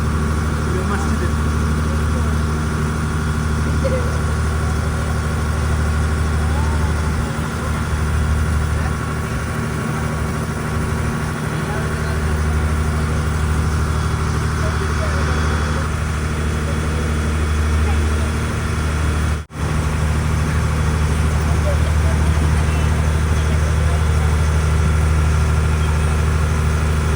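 Passenger boat engine on the Alappuzha backwaters, a loud steady low drone and idling throb running throughout, with voices speaking over it.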